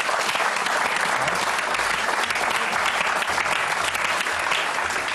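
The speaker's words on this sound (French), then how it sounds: "On peut l'applaudir malgré tout." Audience applause at a comedy stage show, a dense, even burst of many hands clapping throughout, loud and close, with no speech on top.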